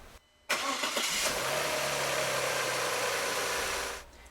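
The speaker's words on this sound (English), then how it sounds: "then I'm going to start the engine and allow the oil to flow and fill the oil filter" An Audi A6 with the 2.7T engine cranks and catches after a brief pause, then settles into a steady, loud idle that runs several seconds before cutting off.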